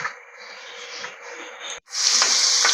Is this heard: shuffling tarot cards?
no